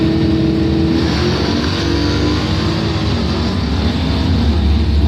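A 1977 Oldsmobile Cutlass 442 doorslammer drag car running badly at a drag race, a loud continuous engine roar that stays rough and sustained throughout, close by.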